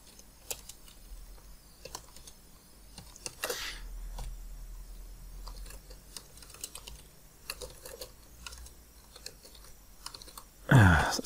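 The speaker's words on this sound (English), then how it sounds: "Some appalling typing there," Scattered clicks of typing on a computer keyboard, irregular and fairly close, with a louder clatter at the end.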